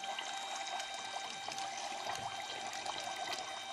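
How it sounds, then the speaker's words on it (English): Water splashing and trickling as a pump moves it during a programmable logic controller demonstration, a soft steady pouring with a faint constant hum, no talking. "And it's on right now, pumping the water."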